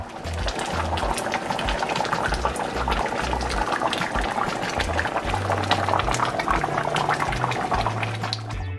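Oxtail stew made with Heineken simmers in a pot, bubbling and popping steadily at close range with a dense, continuous gurgle and no voices.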